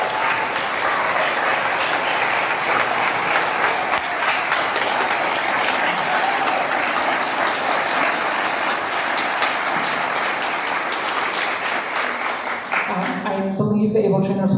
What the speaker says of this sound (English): can we just get a round of applause for the ABLE trainers?